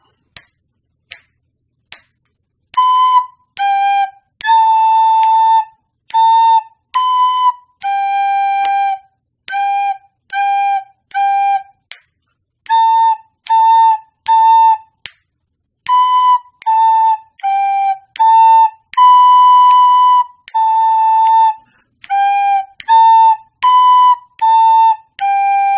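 A recorder plays a simple three-note song, the short clear whistly notes rising and falling in a steady rhythm, each separated by brief silences and preceded by a few soft taps, close and loud with no talking.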